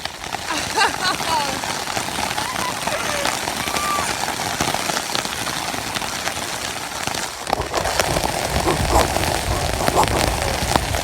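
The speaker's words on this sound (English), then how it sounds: "I think it's hailing too." Hail and heavy rain pelt a camping tent during a sudden storm, a dense, continuous patter and drumming that swells louder near the end, with wind noise mixed in.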